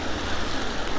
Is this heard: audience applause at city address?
no